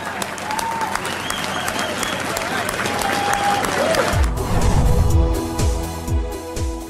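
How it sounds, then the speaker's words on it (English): Crowd applause at the public opening of a Boston harbor tunnel, steady clapping with cheers and whistles, heard mostly under a deep rumble and a voice in the second half. "Let's give them the round of applause that they deserve for building this project."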